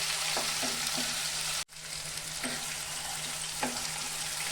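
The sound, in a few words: spice paste with tomato frying in a pan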